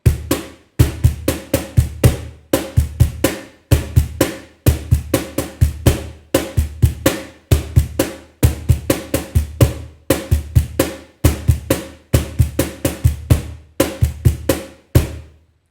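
A samba rhythm on a cajon, deep bass thumps and sharp slaps repeating in a steady looping pattern of quick strokes, played solo and close for several bars.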